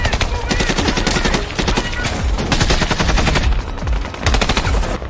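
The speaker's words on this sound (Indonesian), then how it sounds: "Dan baku tembak pun tak dapat dihindarkan lagi." Film firefight gunfire: dense, loud bursts of automatic weapons fire and rapid shots in continuous volleys, with short lulls between the strings.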